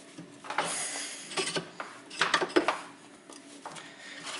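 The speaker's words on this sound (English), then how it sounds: "then I rotate, and look, this caliper is going deeper in that way" A clamp is turned by hand to press a car's brake caliper piston back. It makes close, irregular metallic clicks, ratcheting ticks and clinks in short bursts over a few seconds, and no one speaks.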